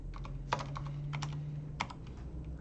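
Fingers type on a computer keyboard in short bursts of crisp clicks, with two sharper, louder strokes like the Enter key being hit, close up over a low steady hum.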